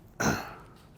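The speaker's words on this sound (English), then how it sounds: "I was coughing." A single short, harsh cough bursts out close by, then trails off into quiet room tone.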